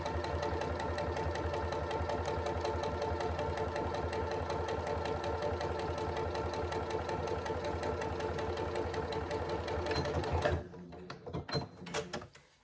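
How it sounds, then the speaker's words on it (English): A sewing machine stitches through two layers of handbag pocket lining, a steady fast mechanical whirring and clatter running continuously for about ten seconds before stopping, followed by a few faint handling clicks. "I'm just going to stitch right through both pocket linings"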